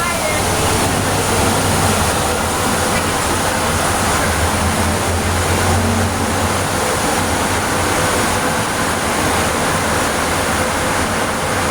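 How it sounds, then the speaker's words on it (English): Air blowers at a hand car wash, heard as a loud, continuous, even rush of blowing air that fills the whole stretch without a break. "I want to hear the blowers."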